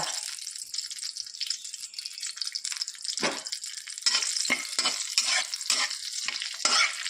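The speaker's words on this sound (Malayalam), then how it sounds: "പിന്നെ അത് ചൂടാകുമ്പോൾ ജീരകം ചേർക്കുക." Cumin seeds sizzling in hot oil in a pan, a bright, crackling hiss that runs throughout with several sharper bursts of spattering, close and steady, without speech.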